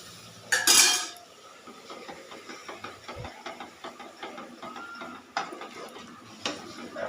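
A utensil scrapes and clinks against a pan while Mysore pak batter of gram flour and oil is stirred, with a loud clatter near the start and repeated lighter scraping knocks, close by and without talk.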